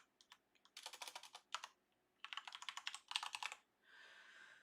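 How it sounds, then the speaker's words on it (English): Quick, crisp bursts of typing on a computer keyboard, close and clear, in two main flurries of rapid keystrokes with short pauses between, ending in a softer sustained rustle. "I'm going to hit T on my keyboard to access my text tool, type tool"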